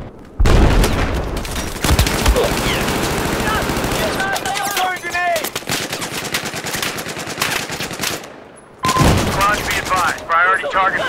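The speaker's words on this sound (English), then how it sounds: "Throwing grenade!" Rapid gunfire bursts and booms from a close-quarters Battlefield 4 match on the Flood Zone map, loud and nearly continuous, with brief pauses and a voice speaking over parts of the firefight.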